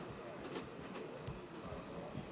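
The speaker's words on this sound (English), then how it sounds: "the world-famous Orient Express, is perhaps the most exciting train of all" A cartoon Orient Express train rolls along its rails, giving off a steady, continuous rumble and clatter that holds for the whole stretch without a break.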